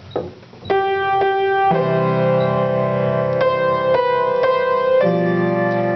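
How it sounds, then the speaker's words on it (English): A piano plays simple block chords of Las Mañanitas, several sustained chords struck one after another at an even pace, clear and close, with no voices. "With nice simple block chords, it sounds like this."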